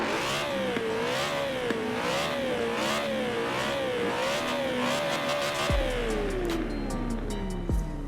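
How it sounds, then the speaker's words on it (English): Naturally aspirated 4-litre V8 of a BMW E92 M3 in the racing game Forza Horizon 4, revving loudly and continuously with rising and falling pitch, then a couple of sharp gear-change drops near the end. "Now this is a 4 litre V8, naturally aspirated as well, so no turbochargers, no superchargers, which means it sounds like"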